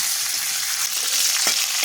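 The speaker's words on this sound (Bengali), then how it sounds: "এক মিনিট মতো ভেজে নিচ্ছি" Mustard seeds and curry leaves fry in two spoons of hot white oil in a kadai, giving a steady, close, crackling sizzle with no talk.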